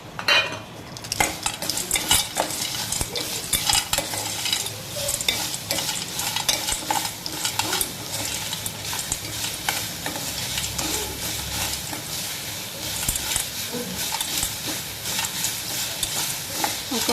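Grated carrot frying in a pan with sugar candy added, a continuous soft sizzle with frequent scraping and stirring clinks of a utensil against the pan throughout.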